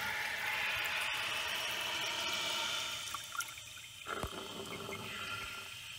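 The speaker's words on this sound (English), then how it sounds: "let's give it another flush and see if that fixes it." A running toilet flushes and its tank refills after a fill valve adjustment, a steady rushing of water for about three seconds that then drops to a quieter trickle with a few small clicks.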